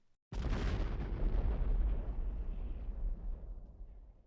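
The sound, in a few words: mine explosion blowing apart a mountain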